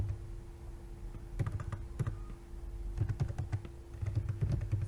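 Typing on a computer keyboard while configuring a CentOS 8 Apache web server: steady bursts of close, dull key taps with brief pauses, over a low constant hum and no talking.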